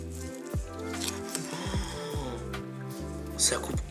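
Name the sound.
knife cutting a cooked wagyu beef steak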